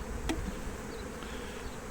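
Honeybees hum steadily at an open hive during an inspection, the drones walking on the combs. The buzzing is a continuous close drone with no speech, and one brief sharper buzz passes near the start.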